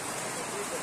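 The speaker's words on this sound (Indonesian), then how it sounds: "Suasananya hujan deras sana waktu pagi hari" Heavy morning rain at a horse-racing training ground in Tegal Waton, a steady dense hiss of falling water, close and continuous across the brief moment.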